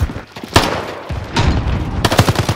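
Gunfire in Call of Duty: Modern Warfare cracks out in several loud bursts and single shots with heavy, booming echoes, spaced irregularly across the short stretch.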